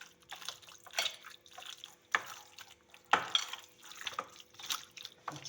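Minced mutton mixed by hand with ginger paste, oil and spices for seekh kebabs: soft, wet squelching and slapping strokes repeating irregularly at close range, with no talking.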